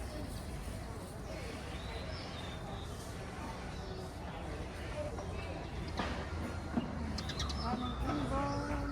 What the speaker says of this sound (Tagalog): Come on, little bird.